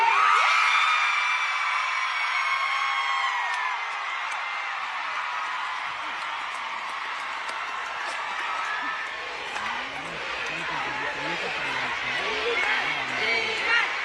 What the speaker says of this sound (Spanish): Cómo le gritan a Dimash las 10 latinas.